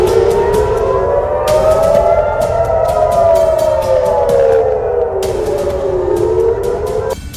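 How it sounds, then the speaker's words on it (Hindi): A missile or rocket attack warning siren wails over Haifa, a loud sustained rising and falling tone that dominates throughout with no voices. "इससे पहले मिसाइल या रॉकेट अटैक वाला सायरन भी बजा।"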